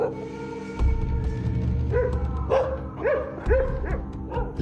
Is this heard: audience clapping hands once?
no